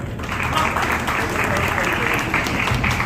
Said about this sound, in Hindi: जोरदार ताली, खड़े होंगे